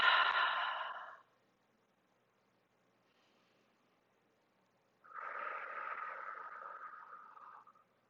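Deep yoga breathing, with a soft breath at the start, then a long, slow, audible exhale of a few seconds after a pause, close and quiet with no speech.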